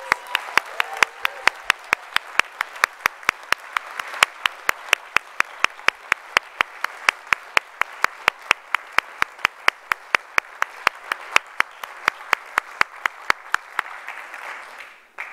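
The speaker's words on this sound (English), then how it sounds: "Let's have one more round of applause for our graduates." Crowd applause for graduates at a Master of Engineering hooding ceremony, with sharp rhythmic clicks repeating steadily over the clapping, loud and sustained for about fifteen seconds.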